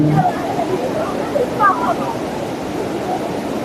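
A waterfall near a panda lake in misty mountain scenery, a steady broad rushing roar heard from a distance, with someone talking over it.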